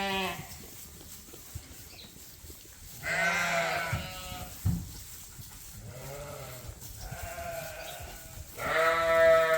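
Ewes bleating on a sheep farm, several loud, nearby harmonic calls overlapping and repeating in bursts across the scene over low outdoor background noise.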